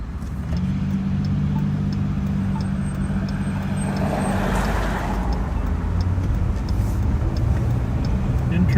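A car with a loud muffler passes on a street, a steady engine rumble swelling and fading as it goes by, continuous and fairly near.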